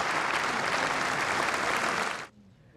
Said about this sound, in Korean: 멜라니아 여사와 나란히 본회의장으로 들어서는 트럼프 대통령을 여야 의원들이 박수로